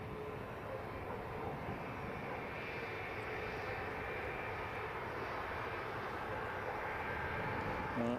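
An easyJet airliner moves on the ground at Edinburgh airport, a steady, continuous engine roar that holds at a constant level throughout, with no talking.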